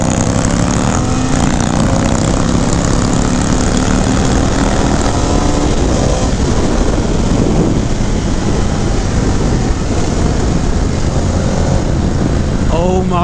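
A 2019 Indian FTR 1200 S motorcycle pulls hard under full throttle with its rear tire breaking loose, giving a loud, steady engine roar mixed with heavy wind rush throughout.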